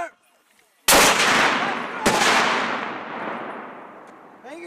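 Soldiers of an airborne brigade fire mortar rounds: two heavy, booming launches about a second apart, each with a long rolling echo that fades slowly outdoors. A brief shouted voice is heard before them.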